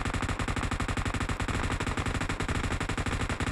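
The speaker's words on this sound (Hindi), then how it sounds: "देखिए मैं फायर कर रहा हूँ" Rapid automatic gunfire in the PUBG Mobile video game, a loud continuous burst of evenly spaced shots filling the whole stretch with no talking.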